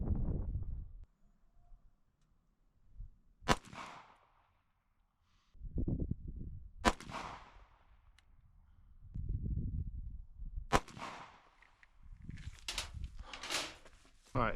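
A Ruger RXM pistol fires shots at a target outdoors: four sharp, loud cracks spaced a few seconds apart, each with a short decaying tail, among low rumbling background and handling noise.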